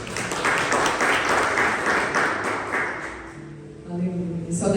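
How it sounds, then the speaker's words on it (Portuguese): Church congregation applauding during a Portuguese-language service, a dense steady clapping wash for about three seconds that fades out, followed by a voice speaking and a brief tonal sound at the end. "Aplaude ao Senhor Jesus"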